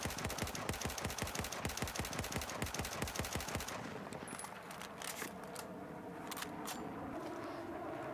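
Rapid automatic gunfire in Battlefield 4, a fast even string of sharp shots for nearly four seconds, then trailing echoes and faint game ambience.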